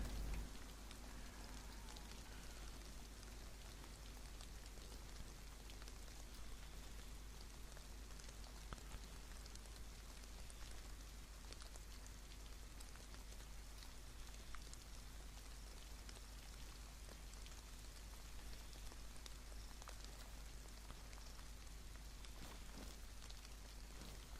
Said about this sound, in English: It's still raining outside though.